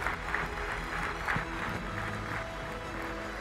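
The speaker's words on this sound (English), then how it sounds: "we're clapping while you sit down for those 10 years" An audience claps steadily while people with ten years of recovery take their seats at a livestreamed recovery event, a sustained moderate patter of many hands, fairly distant, with faint crowd murmur.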